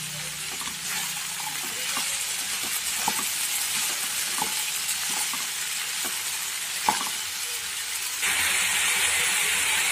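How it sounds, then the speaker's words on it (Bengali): Chickpeas seasoned with salt, turmeric, chaat masala and chopped green chilli sizzle steadily in a pan, with repeated scraping stir strokes at a regular pace and a louder hiss near the end, with no talk. "স্বাদ মতো নুন, হলুদ আর চাট মশলা, কাঁচা লঙ্কা কুচি, এগুলো সব নেড়ে একটু ভেজে দেব"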